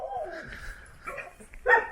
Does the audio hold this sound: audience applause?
no